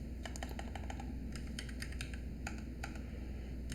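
Quick bursts of keystrokes on a computer keyboard, irregular and fairly close, over a steady low background hum with no voice.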